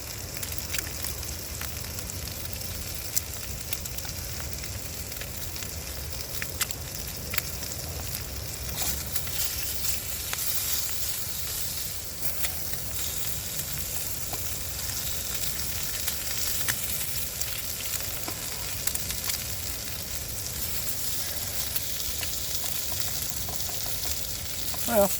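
Steady frying sizzle from a small camp frying pan at a cold overnight camp, a continuous crackling hiss that holds at an even level throughout with no talking.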